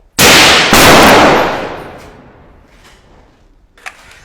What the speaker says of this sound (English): We just shot fired, so we expect a counter attack to us.